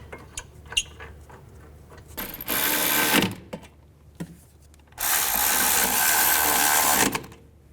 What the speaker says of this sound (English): Put the bolts in, get them both started.